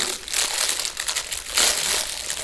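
Thin plastic film stuck to a soft, squishy sticky toy ball crinkles and crackles close up in irregular bursts, with no voice over it.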